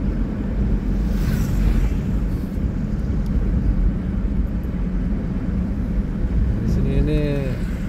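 A car is driven fast on a road, with a loud continuous rumble and buffeting wind noise throughout. A voice briefly emerges near the end.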